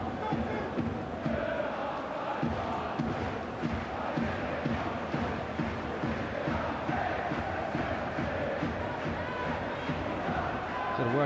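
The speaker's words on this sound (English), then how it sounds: "the crowd continue to sing the name of Henrik Larsson" Football crowd at a Celtic home match against Aberdeen singing Henrik Larsson's name, a dense sustained wall of massed voices with rhythmic swells, loud and continuous throughout.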